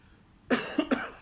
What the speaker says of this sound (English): I didn't realize I'd be coughing this much when I started shooting this.